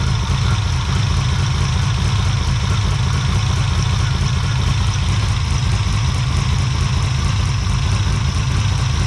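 Ferrari 330 engine running on its carburetors during tuning, a steady loud idle with an even low rumble and rapid pulsing exhaust beat, close and continuous with no talking.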